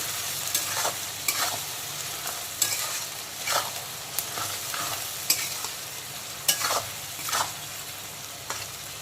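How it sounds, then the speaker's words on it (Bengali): Onion, tomato and slit green chilli frying together in a pan, a continuous close sizzle punctuated by regular spatula scrapes and taps every second or so, no one speaking. "যাতে টমেটো আর কাঁচা লঙ্কার সাথে সাথে পেঁয়াজটাও আবারও কিছুক্ষণ ভাজা হয়ে যায়"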